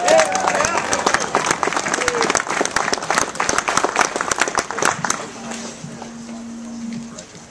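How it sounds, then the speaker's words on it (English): Rally crowd at a Second Amendment gathering in Grand Junction, Colorado breaks into loud, dense applause lasting about five seconds, then tapers off to a quieter room hum with a low electrical tone. "Let's give a round of applause for Kevin McCarney"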